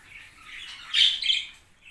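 A scared budgerigar chick lets out a short, faint, high squawk. A sharper peak comes in the middle, against a quiet room.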